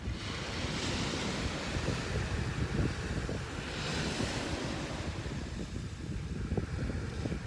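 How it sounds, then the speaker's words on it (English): Ocean waves wash steadily onto a tropical beach with wind buffeting the microphone. A continuous, moderately loud surf roar swells and recedes in slow surges, with no voices. "you got the ocean, you got the birds, you got everything that's happening"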